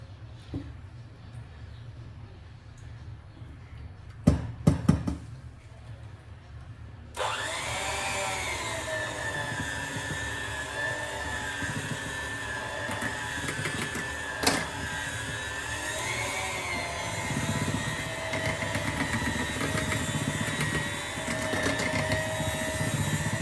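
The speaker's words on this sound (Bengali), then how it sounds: "ক্রিম বিট করার জন্য বিটার থাকে না এটা দিয়ে খুব ভালো হয় এবং খুব তাড়াতাড়ি হয়ে যায় তো চলুন ডালটাকে ফেটিয়ে নিই" An electric hand beater whips soaked lentil paste in a home kitchen, a steady motor whine starting abruptly after a few quiet seconds of clatter and running continuously at close range.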